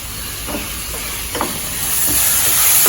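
Steady sizzling and hissing of vegetables sautéing in a hot pan for parotta salna curry, with a few soft scraping stirs, growing slightly louder toward the end.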